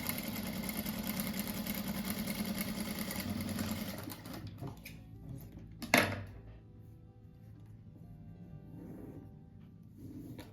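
Sewing machine stitching fabric for a child's car-shaped cushion, a steady mechanical whir for about four seconds that stops, followed by a sharp clack and quieter handling noise.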